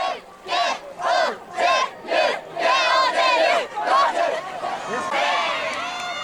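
High school students shout cheers together at a traditional school boat race. Loud rhythmic chanted bursts come in a steady beat from a large group, then give way to continuous, overlapping crowd yelling.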